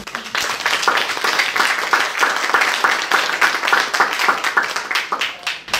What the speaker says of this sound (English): So big round of applause for yourselves